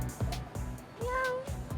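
A person imitates a flirtatious cat, letting out a drawn-out, rising meow that bends upward in pitch, close and fairly quiet, surrounded by short bursts of other voices.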